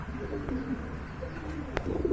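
Large pigeons cooing close by in a coop, a few soft low coos and a brief chirp against a steady room background, no one talking.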